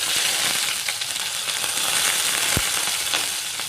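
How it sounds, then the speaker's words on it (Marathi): Curry leaves and asafoetida sizzling in hot oil for a tempering, a loud continuous close-up frying hiss with a sharp crackle partway through and no talk. "त्यामध्ये हा हिंग थोडा टाकणार आहोत तर त्यामध्ये कढीपत्ता टाकणार आहोत"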